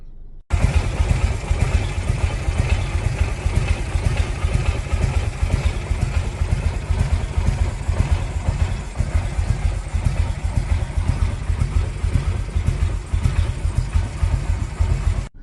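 A Harley-Davidson Evolution engine idles close by during an ignition point adjustment, a loud, steady, lumpy pulsing rumble that kicks in after a brief quieter moment and runs unbroken to the end.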